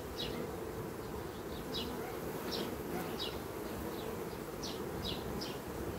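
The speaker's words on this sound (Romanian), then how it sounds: "Acum îndepărtez acești trântori." Honeybee drones buzz around an opened beehive near a queen-rearing setup, a continuous close insect drone with repeated higher passing buzzes as bees fly by the microphone, no talk.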